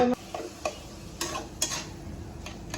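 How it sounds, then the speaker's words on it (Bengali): Small local shrimp with taro cooking in a pan, a steady soft sizzle with several sharp utensil scrapes and clicks as the food is stirred, close by. "আর এখানে কচুরমুখী দিয়ে ছোট চিংড়ি, দেশি চিংড়ি দিয়ে রান্না করছি।"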